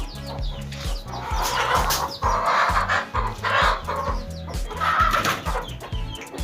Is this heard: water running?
no